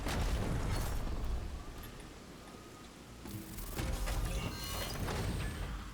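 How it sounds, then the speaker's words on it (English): A weapon drop lands with heavy explosive booms in the game Doom: The Dark Ages, loud rumbling impacts at the start and again near the end with a softer lull between. "Weapon drop incoming in 3, 2, 1."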